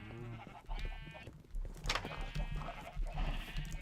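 Sheep in the Minecraft video game bleat in short wavering cries, several overlapping calls at moderate volume against a busy background of game noise.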